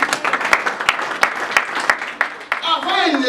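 A church congregation bursts into dense applause in praise of the Lord, many hands clapping with sharp accents. A voice speaks over it and rises toward the end.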